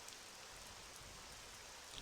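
Steady rain pours down in Balmora in Morrowind, an even, dense hiss of drops spread across the whole clip with no voices.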